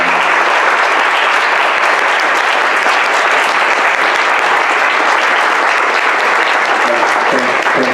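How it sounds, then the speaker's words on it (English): Steady, dense applause from an audience honoring panelists at a spring symposium, loud and sustained throughout with no break. "So if we could give them a round of applause."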